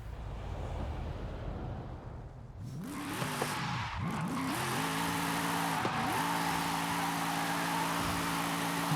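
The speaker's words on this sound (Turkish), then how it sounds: "Toz dumana katın diyor bir donat yapalım o zaman." Car doing donuts in the Forza Horizon 5 racing game near a test track: a steady engine drone rises and revs with shifting pitch, tyre noise and a loud sustained roar, no talking.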